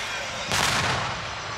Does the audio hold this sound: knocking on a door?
no